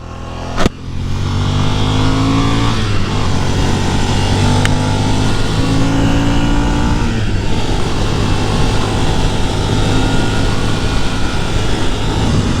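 A 2022 Ducati Nightshift motorcycle, nearly new with 639 miles and still being broken in, is revved past 6,000 rpm. A loud, close engine roar rises and falls in pitch across repeated sweeps, with a sharp click near the start.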